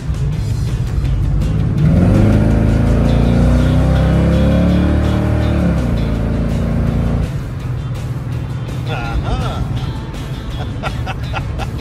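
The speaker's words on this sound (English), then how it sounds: "wide open throttle is what he's really interested in." A 1965 Chevy II at wide open throttle, a loud, close V8-style roar building and holding for several seconds, then cutting off abruptly as the car drops to a lower rumble with road noise.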